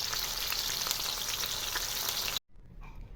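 Steady loud sizzling of katla fish frying in hot oil in a pan, continuous for a few seconds before cutting off abruptly into near silence.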